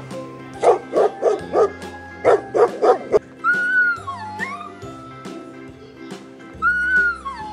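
A cartoonish dog sound effect for the letter D in a children's alphabet lesson: a quick run of six sharp barks, then whimpering, whistle-like yelps that slide up and down, loud and close, with no talk.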